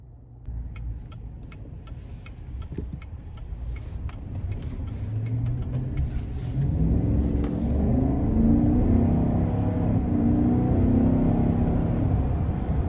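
A 2020 GMC Sierra 1500 Denali with a 6.2-liter V8 and 4WD accelerates on a test drive, its engine rumble climbing and swelling into a louder, steady drone heard from inside the cab, with no talking.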